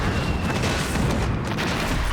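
A steady, loud roaring blast from the death ray in Megamind's lair keeps up without a break for its short length, dense and rumbling, with no voices over it.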